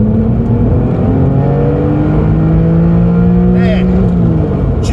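A Porsche 911 996 4S engine winds steadily upward in a rising, building howl toward its rev limiter. It is loud and continuous with layered climbing harmonics, heard from inside the car.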